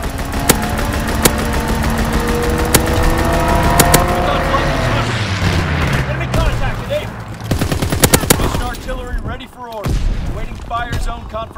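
Video game gunfire from a fighter aircraft strafing run, with long rapid bursts and sharp single cracks over a steady engine drone. Radio-style voices and battlefield noise run underneath.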